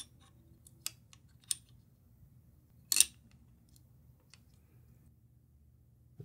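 Arms being seated on a Wilcox MRF Xe mount, producing a few faint, sharp metallic clicks and taps close up, with one louder snap near the middle over a quiet background.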